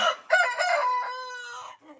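A rooster crows once, a loud, drawn-out cock-a-doodle-doo close by, trailing off at the end.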